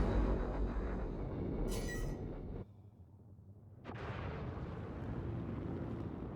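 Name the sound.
missiles fired at a ship in Star Citizen video game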